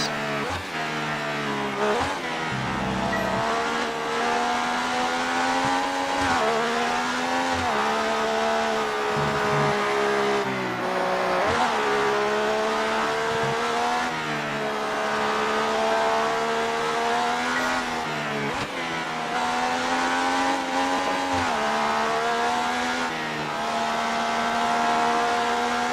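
An F1 race car engine from F1 2018 at the Australian Grand Prix screams steadily at high revs for the whole stretch, its pitch rising and dipping through gear changes. The sound is loud and continuous, with no talk.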